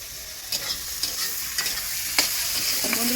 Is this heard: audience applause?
no